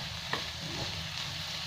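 Boiled potatoes for sabudana poha frying in a pan, a soft continuous sizzle under a few faint spatula scrapes, close but quiet.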